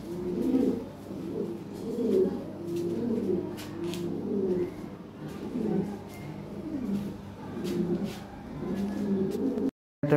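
Lahore fancy pigeons coo repeatedly in soft, rolling low calls, close and steady throughout, with faint chirps behind and a brief cut near the end.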